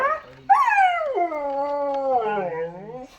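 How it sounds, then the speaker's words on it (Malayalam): A dog howls and whimpers in a drawn-out, wavering, crying tone, close and loud, rising and falling across several seconds with a brief break near the start. "അത് കരച്ചിലാ"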